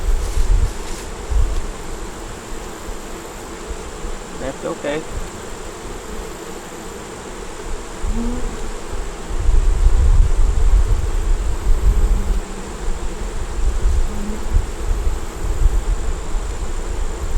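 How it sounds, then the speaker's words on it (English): Honey bees buzz steadily around an opened hive box during a honey inspection, a dense close swarm drone that swells louder midway, with a brief voice speaking over it. "Bees up here all over my camera."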